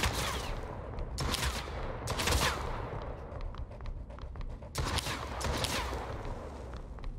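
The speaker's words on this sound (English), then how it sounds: "Let's try the shotgun." Shotgun blasts in an anime virus shooting game: a string of sharp, fairly quiet bursts, some clustered in quick succession, over a steady busy background with no voices.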